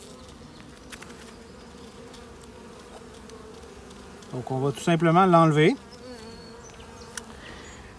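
Honeybees hum low around an open beehive while someone speaks French, then one bee buzzes loudly and close for about a second and a half before moving off.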